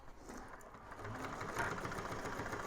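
Sewing machine running steadily as it stitches the seam of a drop-in lining for a convertible bag, a continuous mechanical whir with fast rhythmic needle pulses, close and moderately quiet, no voices.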